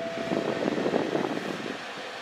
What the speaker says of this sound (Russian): Вентиляторы работают.